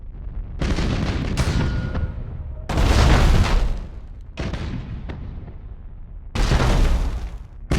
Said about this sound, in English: Broadside macro cannons ready to fire on your order, sir.